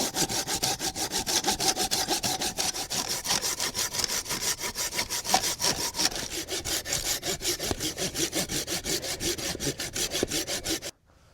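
Logs being hand-sawn for a campfire in freezing weather, a steady rhythmic back-and-forth rasp of the blade through wood that runs close and loud without pause, then stops abruptly at the end.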